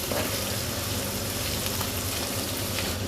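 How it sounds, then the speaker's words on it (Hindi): Garlic and ginger fry in a pan, a steady soft sizzle that holds evenly for a few seconds with no voices over it. "अब इसको अच्छे से भून लेंगे ताकि इसका कच्चापन जो है ना लहसुन अदरक का"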